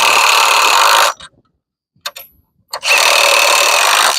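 A power tool tightens bolts on a playset in two loud, close bursts of whirring, separated by a near-silent gap with a few brief clicks and knocks.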